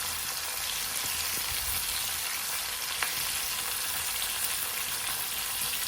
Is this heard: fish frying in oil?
yes